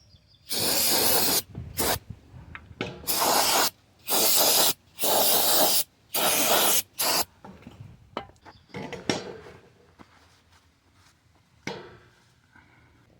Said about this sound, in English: We're gonna clean it very well here. Brake cleaner.